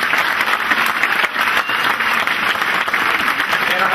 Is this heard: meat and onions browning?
no